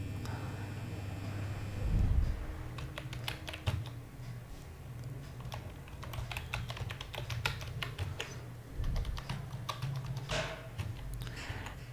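Fast, uneven keystrokes on a computer keyboard as data such as a PIN code is typed into a mail merge list, close by and continuous over a low steady room hum, with a brief heavier thump near the start.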